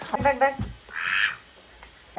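A few short, nasal duck quacks come in quick succession, close by, followed by a longer raspy squawk and a faint quiet tail.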